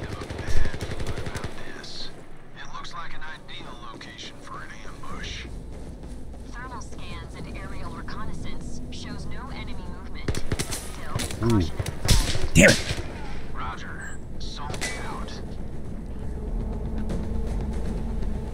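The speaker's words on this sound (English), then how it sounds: "I'll just fire in short bursts then." Gunfire in the VR shooter Zero Caliber, rifle shots cracking in short bursts amid battle noise, loud and close, with someone talking intermittently between volleys.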